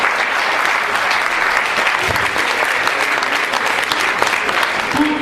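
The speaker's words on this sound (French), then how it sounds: "Applaudissements pour l'équipe qui va se lever." An audience at a tribute ceremony applauds a team as they stand, a loud, even wash of clapping sustained from start to finish with a few louder individual claps and faint voices mixed in.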